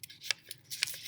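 Filter paper rolled around a laboratory thermometer during a water evaporation experiment, giving a few brief papery rustles and crinkles close by, in short bursts with quiet gaps between them.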